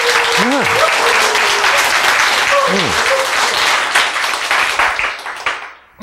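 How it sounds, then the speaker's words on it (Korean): An audience at a talk on a gene recovery program breaks into loud sustained applause, dense clapping that fades out near the end, with voices and exclamations rising over it. "박수."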